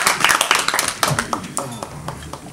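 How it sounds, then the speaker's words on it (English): A small audience at a memorial reading gives a round of applause to welcome a reader, a busy patter of clapping hands up close that thins out toward the end, with a voice speaking over it. "Please welcome with a round of applause"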